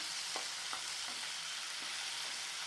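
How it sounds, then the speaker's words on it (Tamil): Cashews and tomatoes sautéing in a pan for red sauce pasta make a soft, constant sizzle with a few faint scraping stirs, no voices. "இது நல்லா வதக்கிக்கலாங்க. இது எல்லாத்தையும் நல்லா வதக்கி எடுத்துக்கலாம்."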